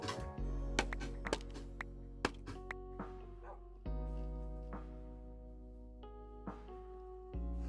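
A Minecraft dog gives short, squeaky yips like a squeezed squeaker toy, heard as several sharp bursts over steady tonal music.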